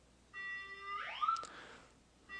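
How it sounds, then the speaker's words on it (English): A home security system alarm sounds after being tripped, a steady electronic tone with stacked harmonics that sweeps upward in pitch, then cuts off and restarts; moderately loud and alone, with no talk. "So you can see my alarm's going off right now."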